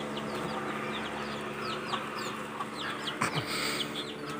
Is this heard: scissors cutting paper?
no